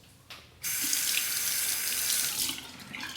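A straight razor rinsed under a running bathroom tap: a steady, close hiss of water splashing into a sink, continuing alone for several seconds.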